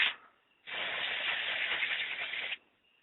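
Carburetor cleaner sprays onto a plastic in-tank Briggs and Stratton carburetor in one loud, close, continuous hiss lasting about two seconds, with quiet gaps before and after.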